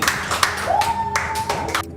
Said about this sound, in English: Let's clap, everybody!